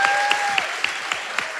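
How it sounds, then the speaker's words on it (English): A leadership conference crowd breaks into loud, sustained applause, dense clapping from a large audience holding steady with a few sharper claps standing out near the front. "A big round of applause for Mr."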